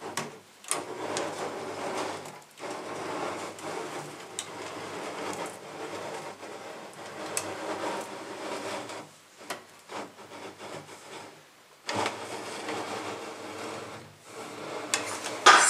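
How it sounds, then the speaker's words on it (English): Wire being wound by hand onto a coil for a home-made windmill generator, a continuous soft rubbing and scraping with small rhythmic rustles and brief pauses, close and fairly quiet. "Then get more wire from the triangular coil. And start winding it again."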